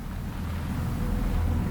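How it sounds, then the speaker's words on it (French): An Air Sea Rescue launch boat's engine drones as a dull, low, steady rumble out on open water, with wind and a broad wash of sea noise over it. "Un bruit sourd de moteur."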